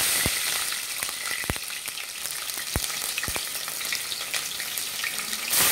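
Green chillies hit hot oil in a cooker pot for a spicy goat brain curry, producing loud, dense bubbling sizzle with sharp pops and crackles scattered throughout, with no talk.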